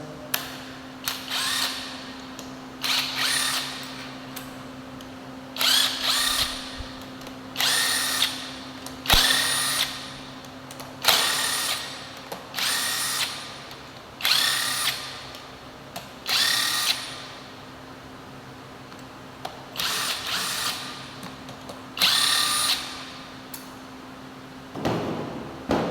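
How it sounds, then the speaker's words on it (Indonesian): An impact wrench with a 14 mm socket removes cylinder head bolts on a Toyota Kijang 7K engine during an overhaul. It fires about a dozen short, loud rattling bursts separated by brief pauses, over a faint steady hum. "Kita pakai impact, kita pakai shock 14."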